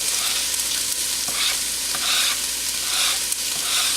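Italian sausage, chili and vegetables sizzle steadily in a hot pan for a black bean chili while a spoon stirs and scrapes now and then, loud and close with no voices.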